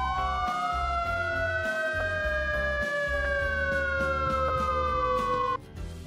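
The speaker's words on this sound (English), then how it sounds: "Fire engine." A fire engine siren wails loudly and continuously, its pitch sweeping slowly up and then down over a low engine rumble, close by.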